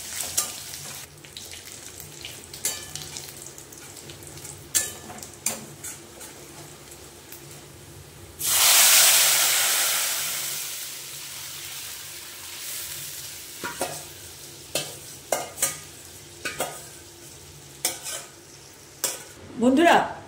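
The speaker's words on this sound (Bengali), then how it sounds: "এই যে একটু নাড়াচাড়া করে মশলাটা ভাজা হয়ে এসছে" A spoon scrapes and stirs spice masala frying in a kadai for a Bengali bhaja dal, with soft clinks, then a sudden loud hissing sizzle for a couple of seconds before the quieter stirring and tapping resume.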